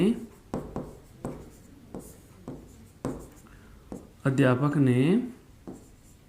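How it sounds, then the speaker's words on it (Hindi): Writing on a board while teaching Hindi verb examples: a series of short, separate scratching strokes, fairly quiet and evenly spaced, with a voice speaking briefly near the end. "फिर मैं अगला उदाहरण लिख रहा हूं"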